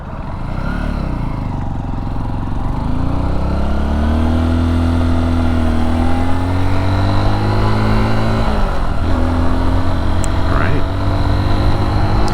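A 2023 Honda XR150L motorcycle engine hums steadily while riding, its pitch rising and falling with throttle changes and a brief dip near the end, loud and continuous throughout with wind noise.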